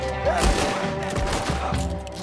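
Gunfire bursts during a shootout in the video game Red Dead Redemption 2, a dense rattle of shots with a heavy boom near the start, loud and continuous over about two seconds.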